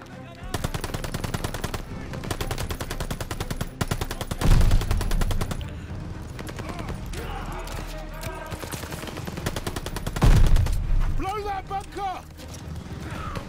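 Sustained machine gun fire in the Call of Duty: Vanguard war game, with long rapid bursts of loud close shots, heavy booms around two moments, and a voice talking intermittently over the firing.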